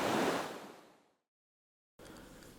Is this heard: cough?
no